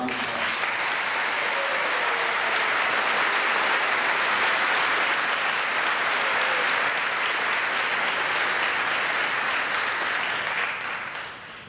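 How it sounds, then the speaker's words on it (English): An audience at a high school graduation ceremony in Riverside, Beaver County, gives a sustained, dense round of applause that keeps a steady loudness for several seconds, then begins to fade out at the end. "Please join me in giving them a round of applause."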